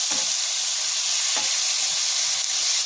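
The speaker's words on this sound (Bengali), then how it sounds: "মিশিয়ে নেব সুন্দর করে পেঁয়াজ আর আলু।" Onion and potato frying in a pan on a village cooking stove, a steady loud sizzle with brief scraping stirs as the mix is turned, no talking.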